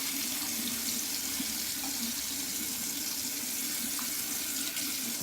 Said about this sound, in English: But with a little warm water, I'm going to wash my face.